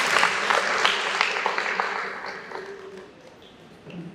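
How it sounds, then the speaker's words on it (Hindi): An audience at a Buddha Vihar gathering in Nagpur claps in a burst of applause that is fairly close and dense at first, then thins and fades to scattered claps. "जोरदार तालियां।"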